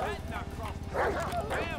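Dogs in the video game GTA 5 bark and yip in short, repeated bursts at moderate loudness. A steady low background runs under them, and someone talks over the barking.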